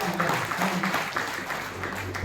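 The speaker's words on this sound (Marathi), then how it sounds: "टाळ्यांच्या गजरातून आपण त्यांना शुभेच्छा दिल्या" An audience claps at a contest prize-distribution award ceremony, a steady patter of applause from a gathered crowd with voices mixed in.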